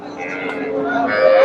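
A Jersey dairy cow at a livestock market gives a drawn-out moo that rises toward the end, with people talking in the background.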